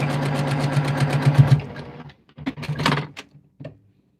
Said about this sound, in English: I'm going to go down sides of the seam